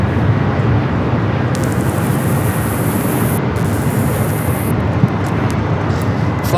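An airliner bound for Shanghai lines up at Los Angeles LAX airport, heard as a loud, steady jet engine roar with broadband rumble. A high whine comes and goes over it, and the roar stays heavy and continuous throughout.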